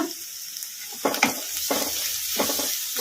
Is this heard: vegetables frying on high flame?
yes